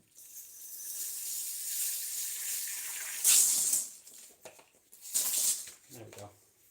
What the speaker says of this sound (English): so I'm going to spray you down altogether.